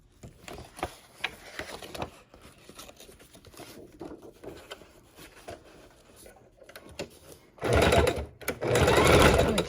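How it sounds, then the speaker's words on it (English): A sewing machine stitches ribbon and lace onto a junk journal page, starting with short intermittent bursts of needle patter and then running in two loud, sustained stretches near the end. "it's easier to use the sewing machine"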